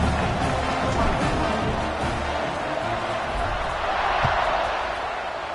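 Football stadium crowd roaring steadily just before kickoff late in the fourth quarter of a close game, a dense continuous wall of cheering throughout.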